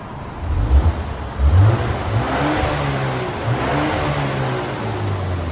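A stock-exhaust 2024 BMW X1 M35i with its 2.0L turbo engine revs close by, giving two quick throttle blips and then a steady, fairly quiet idle hum with no talking.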